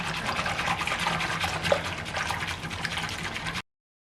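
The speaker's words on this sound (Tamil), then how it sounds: "விட்டுட்டு இதையும் வந்து நல்லா கரைச்சி விடுங்க." Pudding mix for broken glass pudding is stirred into hot water, giving soft liquid swishing and light trickling sounds close by. The sound stays steady and quiet, then stops abruptly.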